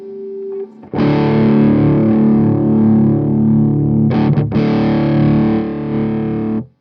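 Heavily distorted electric guitar chord through an Orange amp's high-gain channel, ringing out loud and sustained, briefly cut and restruck, then cut off abruptly at the end.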